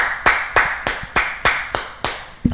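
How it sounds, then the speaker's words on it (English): A single person claps about eight times in a slow, evenly spaced rhythm during a sports betting podcast, each clap sharp and close with a short decay and no voices over it. "Can I get a round of applause?"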